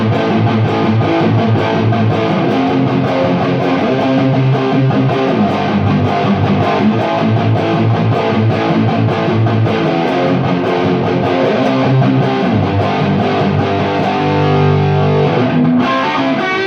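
Heavily distorted electric guitar through an Orange Micro Dark 20-watt amp, playing dense, loud metal-style riffs continuously with no talk over it.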